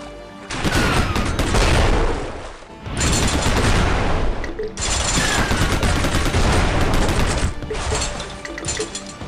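Heavy machine gun fire in the Ramboat mobile shooting game, loud dense bursts of rapid shots in three long stretches with brief gaps between, game effects and crashes mixed in.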